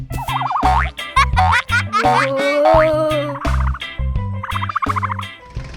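Cartoon flamingos peck rapidly at watermelon, heard as a run of quick, loud, bouncy comic sound effects and squawky fowl-like calls with short percussive hits, filling the clip without speech.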